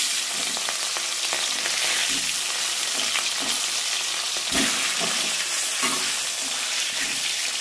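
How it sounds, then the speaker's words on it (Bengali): Catla fish pieces frying in hot mustard oil, a loud, dense, continuous sizzle up close with small crackles and an occasional stir, no talk. "এর মধ্যে কাতলা মাছের পিসগুলোকে ভেজে নিচ্ছি"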